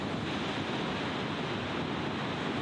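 Ocean surf pounds steadily around a seaside waterfall in the Faroe Islands, a dense, continuous roar of breaking waves with wind buffeting the microphone and no letup across the stretch.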